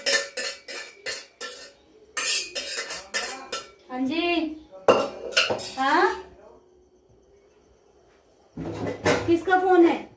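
Metal pots and utensils clank and scrape in bursts, with someone talking in between and a short quiet stretch before more clattering.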